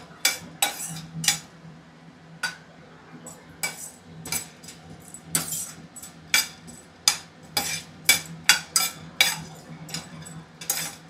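Puffed rice and chana dal dry roasting in a pan with no oil or ghee, stirred with a metal spoon that scrapes and clinks against the pan in a steady run of sharp, close taps, with no talking.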